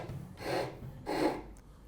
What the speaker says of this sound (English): Is this a good time to demonstrate a block with sandpaper on it?